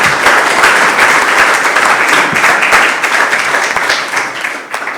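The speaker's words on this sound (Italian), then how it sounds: "io farei un applauso all'ingegner Cristiano Cusini" An audience applauds at a command handover ceremony in Treviso: a steady, dense wash of many hands clapping together, loud and continuous for the full stretch, easing slightly near the end.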